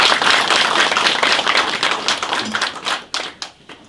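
An audience at a civic policy meeting in Suncheon claps in a thick burst of welcoming applause, loud and sustained at first, then thinning into scattered claps and fading out.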